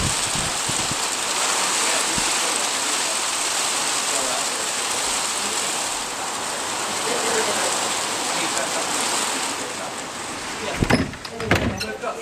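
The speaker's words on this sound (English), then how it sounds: "That's hail, isn't it?" Hail pours down in a dense, steady hiss of pelting ice, loud and continuous throughout, with a few thumps and clatters near the end and faint voices underneath.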